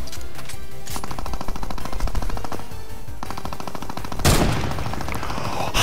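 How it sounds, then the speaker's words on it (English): Rapid machine-gun fire from players shooting each other in a video game, dense bursts of loud rattling shots running nearly nonstop, with a heavier blast of gunfire late in the stretch. "these guys are shooting each other"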